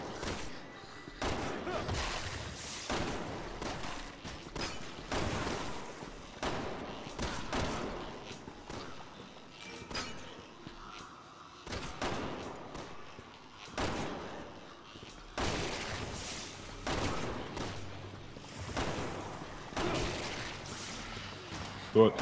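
Gunfire in the video game Resident Evil 6, repeated loud gunshots aimed at heads, clustered in rapid bursts with thuds between them, under continuous chatter from players throughout.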